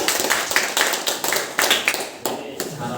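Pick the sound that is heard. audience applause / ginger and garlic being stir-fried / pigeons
audience applause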